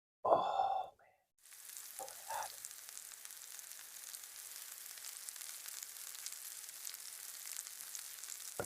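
A tomahawk steak sears over a fireplace fire, a soft continuous sizzle and crackle after a brief louder burst and a pause at the start, steady and fairly faint with no talk.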